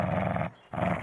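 Dog growling in the video game Dexter Stardust, a low rumbling snarl that breaks off briefly and resumes, close and loud with no talk over it.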